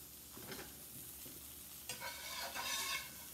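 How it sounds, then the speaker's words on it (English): Fried apple pies cooking in hot oil and butter, a steady close sizzle with brief stirring scrapes that swell louder toward the end. "I'm going to put it in here and let her fry."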